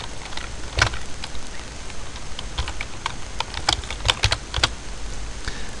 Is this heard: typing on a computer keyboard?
yes